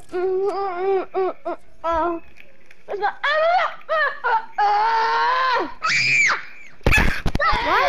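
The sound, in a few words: person screaming loudly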